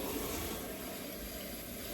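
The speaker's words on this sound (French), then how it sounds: "bon, je rince tout, hein, les gars." Running water pours steadily from a tap as plastic food packaging is rinsed in a kitchen sink, a continuous close splashing hiss with no talk.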